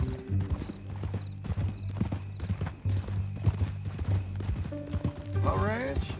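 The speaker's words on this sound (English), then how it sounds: "That new horse?" A ranch horse's hooves clip-clop in a steady, close rhythm while people talk over them, and a whinny rises near the end.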